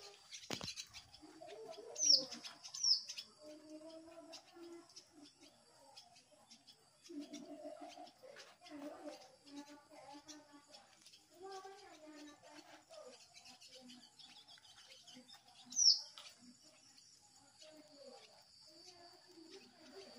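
Faint, scattered chirps and coos of swiftlets nesting under a house, with a few sharp high calls, set against quiet background murmur and intermittent low voices.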